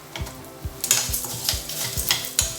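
Fenugreek and mustard seeds roast in a hot pan, giving irregular crackles and faint sizzling with scraping stirs and metallic clinks, close up and without speech.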